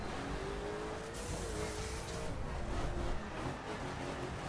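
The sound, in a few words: Ferrari 458 supercar engine in The Crew video game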